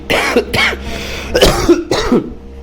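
Four harsh, hacking coughs come in quick separate bursts, close and fairly loud, with brief pauses between them.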